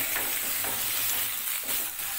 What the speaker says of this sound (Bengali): এখন এঁচোরগুলো 3-4 মিনিট ধরে একটু ভেজে নিচ্ছি